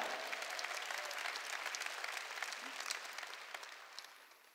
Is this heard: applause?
yes